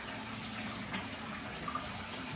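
Water falling from a concrete pond filter into a pan, a steady splashing trickle that runs continuously at moderate level, with a few small drip accents.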